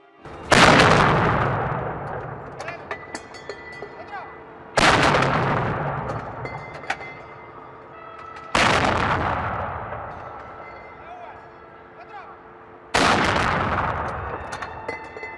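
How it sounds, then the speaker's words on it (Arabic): Four heavy artillery rounds of a 21-gun salute boom out at a royal welcome ceremony for the King of Bahrain arriving in Egypt, spaced roughly four seconds apart, each a loud blast trailing into a long rumbling echo. "أطلقت 21 طلقة تحية لمقدم جلالة الملك المعظم"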